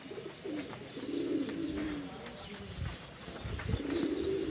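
Pigeons coo softly in repeated low bursts, with outdoor background noise and occasional faint chirps around them.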